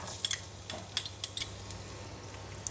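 Garlic and ginger frying in about two tablespoons of hot cooking oil in a pan, a soft sizzle with a few sharp utensil clicks and scrapes from stirring, close and fairly quiet.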